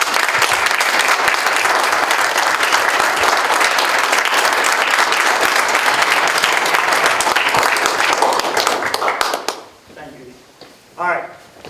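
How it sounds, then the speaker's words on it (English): Loud, sustained applause from a large audience at a village board of trustees meeting, steady clapping for about nine seconds before it tapers off into scattered claps and brief murmurs. "everybody join me in a round of applause"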